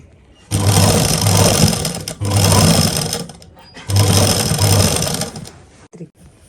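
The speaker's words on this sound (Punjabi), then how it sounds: "ਹੁਣ ਤੇ ਇਹਦੇ ਉੱਪਰ ਇਧਰ ਸਲਾਈ ਲਾ ਦਾਂਗੇ ਤੇ ਆਪਣੀ ਲੈਸ ਇਸ ਤਰ੍ਹਾਂ ਤਿਆਰ ਹੋ ਜੂਗੀ" A sewing machine stitches cotton lace onto a cotton dupatta in three loud, close bursts of a second or two each, separated by short pauses.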